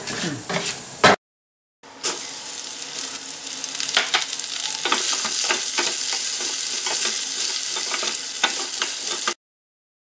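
Chana dal fries in oil in a pan for bell pepper chutney, a loud continuous sizzle with repeated scraping stirs, cut by short silent gaps near the start and end.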